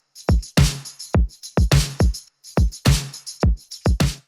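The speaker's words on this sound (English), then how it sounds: "I then added in a tambourine loop on top of that" A looping tambourine part with sidechain pumping sits over kick and snare in a pop production. Bright jingles shimmer in a steady groove, ducking rhythmically around punchy drum hits, loud and close.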